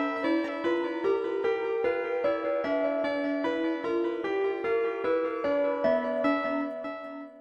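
A microtonal scale of six notes per octave built from harmonic products, played as a quick run of synthesized plucked tones stepping up and down in a steady rhythm, clear and alone.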